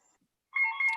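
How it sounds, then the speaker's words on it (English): A phone rings during a conference talk, a single bright electronic ring cutting in suddenly halfway through after near silence, loud and close. "there is a phone ringing which I don't have access"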